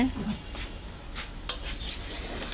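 Winter vegetable fry being stirred in a pan, a utensil scraping and clinking against the metal in quick irregular strokes, close and moderately loud over a low background hum.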